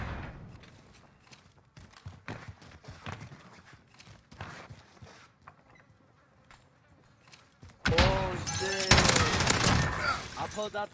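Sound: MG-34 machine gun firing in a video game

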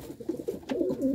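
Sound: pigeon being handled

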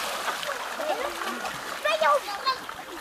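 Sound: people splashing in water

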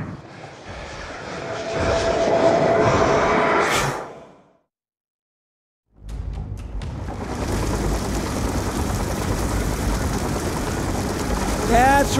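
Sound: drone flying overhead in video game Call of Duty: Black Ops II

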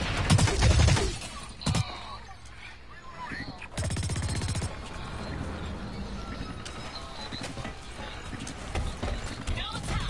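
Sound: gunfire in a video game

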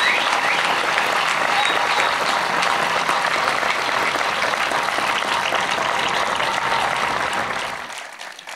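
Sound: audience applause at a concert

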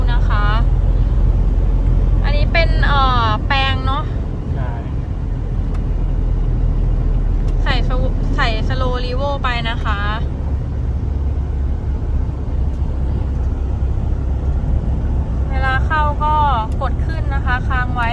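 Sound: Toyota Commuter van with 1KD engine being test driven

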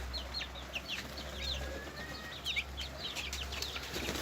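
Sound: pigeons

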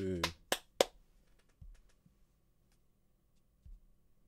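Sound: clapping sound effect in horror video game

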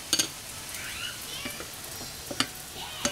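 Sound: batter-coated malai kofte balls frying in hot oil

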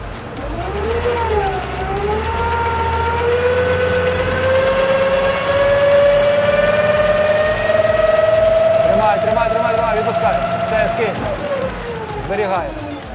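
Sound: tractor engine revving during power test

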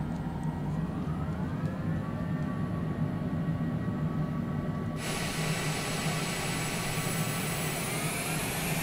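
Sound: airliner jet engines while taxiing in flight simulator video game

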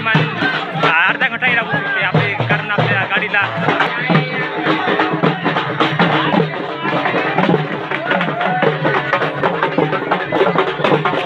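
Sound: crowd at a village fair

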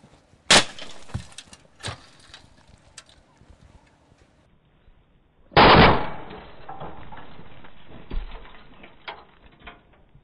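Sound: animal trap being set off and snapping shut

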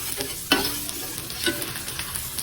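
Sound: garlic sautéing in hot oil for mung bean stew

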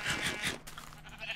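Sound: sheep bleating in the video game Minecraft

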